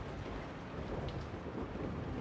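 Steady heavy rain with a low rumble of thunder running underneath, dense and continuous at a moderate level throughout, with no voices.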